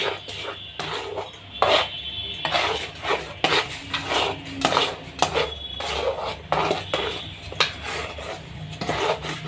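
A spoon scrapes and rasps around a bowl while mixing flour into Morobba bread dough, a close, steady run of rhythmic rubbing strokes with faint clinks.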